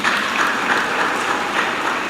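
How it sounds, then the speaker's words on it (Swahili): A church congregation applauds during Mass, a thick, even wash of many hands clapping that holds steady and fairly loud throughout, with no speech on top. "Pigieni basi Mungu makofi."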